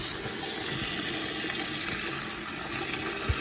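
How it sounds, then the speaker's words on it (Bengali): Tap water runs steadily over chopped leafy greens being rinsed in a kitchen sink, a continuous close hiss and splash with no voices. "বিসমিল্লাহ, শাকগুলো ধুয়ে নিচ্ছি।"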